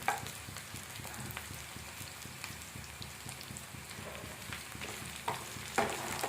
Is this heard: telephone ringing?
no